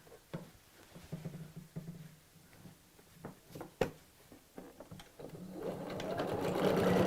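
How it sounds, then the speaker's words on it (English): Sewing machine stitching straight across the top of a tote bag through lining and outer fabric, a close steady mechanical whir with rhythmic needle clatter that builds to a louder continuous run near the end. "So just sew straight across the top, the lining and the outside."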